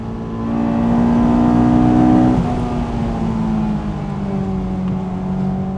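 A Honda S2000 engine pulls hard under acceleration, its loud rising harmonic note climbing steadily, then easing after a gear change into a steady cruise drone, close and dominant.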